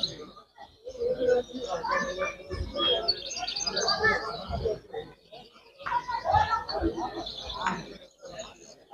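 Goldfinch and Ouidani-type goldfinch hybrid singing at a song competition in Oued Zem, Morocco, with quick chirping, warbling phrases in repeated bursts, close by and mixed with people talking.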